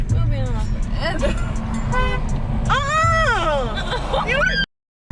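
Car horns toot repeatedly in street traffic, several short honks and longer blasts close by, mixed with engine and road noise and a person's voice.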